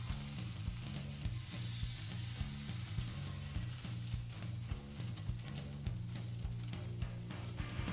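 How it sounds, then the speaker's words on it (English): Pork searing slowly in a hot pan, a steady, faint sizzle and crackle with a low rhythmic pulsing underneath, continuous for eight seconds with no talking. "Then, slowly sear the outside of the pork."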